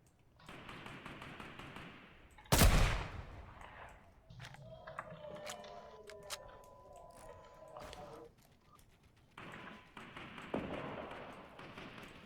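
Gunfire in a multiplayer battle-royale shooter, with a sharp loud burst near the start followed by scattered fainter shots, thuds and game effects, while players chat over it.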